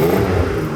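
A Vauxhall Amiga car engine rumbles steadily at close range, its low, rough drone holding a constant level throughout.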